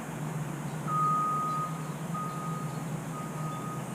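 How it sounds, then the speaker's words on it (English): Reversing beeps from a construction vehicle: a steady series of evenly spaced high electronic beeps, moderately distant, over a low traffic and engine hum, with no talking. "There's construction going on."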